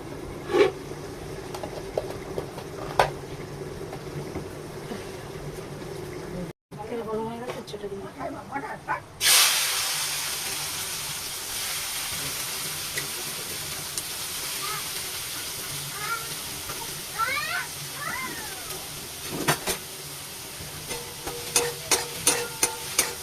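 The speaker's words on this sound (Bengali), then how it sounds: "দাঁড়াও তেল দিচ্ছি উচ্চটা ভেজে নিই" Bitter gourd frying in hot oil in a home kitchen, a steady sizzle and hiss that surges loudly as the slices hit the pan, with occasional stirring clinks and a voice speaking briefly over it.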